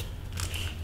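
Veggie chips crunched in a quick, brittle bite, close and brief, over a low steady background hum.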